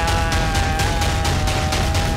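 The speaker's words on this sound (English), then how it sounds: "This is an anti-aircraft gun, okay?" Anti-aircraft gun firing in a video game, a rapid series of regular heavy shots over a constant loud droning hum, with no voices.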